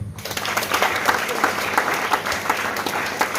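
Audience at a vocational training centre open day in Sindian applauds for the mayor, a dense, steady wash of clapping that holds for the whole stretch, fairly loud and close.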